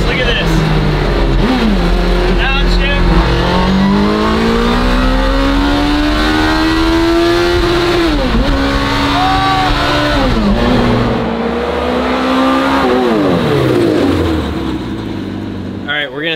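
A mini truck swapped with a sport motorcycle engine revs high and downshifts, its pitch climbing, dropping and climbing again in loud, close, continuous bursts, with a voice briefly audible under the engine.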